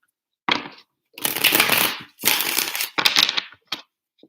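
A deck of tarot cards is shuffled three times in quick, crisp riffling bursts, each a second or less, with a short flick at the end, close to the microphone.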